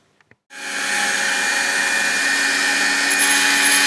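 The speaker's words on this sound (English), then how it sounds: "I'm going to Dremel this a bit because it's a little thick in places." A Dremel rotary tool grinds down thick JB Weld on a die-cast Dinky Vautour model. A couple of faint taps come first, then a loud, steady high-pitched motor whine runs without pause, close to the listener.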